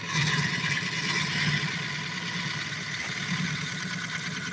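A steady, continuous scraping hum of a tool cutting the thin side wall of a wooden bowl on a spinning lathe, with a rougher, thinner tone throughout and no voices.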